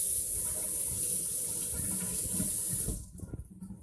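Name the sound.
tap water running while washing hands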